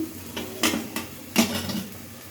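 Fried potatoes being stirred into spiced oil in a pan, with a few sharp clinks and scrapes of the spoon against the metal over a soft background sizzle.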